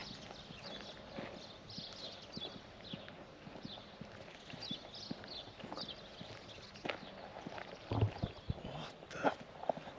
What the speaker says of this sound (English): there's a herd of like wild goats or something taking shelter in an abandoned building